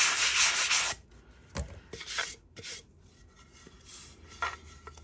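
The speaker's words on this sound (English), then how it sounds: "sand down the bottom" Sanding the underside of a cast resin butterfly tray: a loud burst of gritty rubbing at the start, then shorter scrapes and light knocks, close by with no talk.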